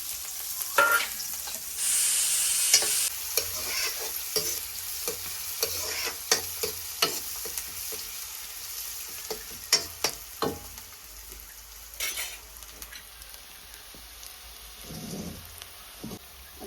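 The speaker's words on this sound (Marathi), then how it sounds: "आणि फोडणी कांदो घालते" Onions frying in hot oil for Malvani chicken curry on a wood-fired stove, a brief loud hiss as they go in, then crackling sizzle with repeated scraping stirs and clinks, close and without talk.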